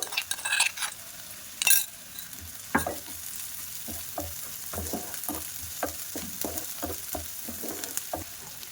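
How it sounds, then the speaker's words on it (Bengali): Ginger-garlic paste sizzling with lightly fried onions in a pan for chicken filling, with a brief scrape early on, then a steady run of short, close stirring scrapes and clinks over a continuous fry; no talking. "এবার আমি ওর মধ্যে আদা রসুন বাটা দিয়ে দেব"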